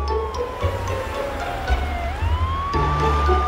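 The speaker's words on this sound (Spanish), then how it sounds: "¡Suena como una sirena!" A cartoon truck's siren wails with a rising and falling pitch over traffic rumble, fairly loud and close, with a few soft knocks in between.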